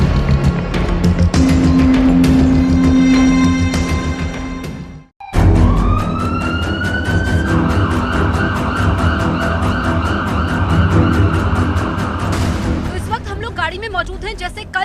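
A police vehicle speeds along the Jhansi–Kanpur highway in a recreated chase, its engine roaring loudly under a wailing siren, with a brief cut partway through and talk over the noise.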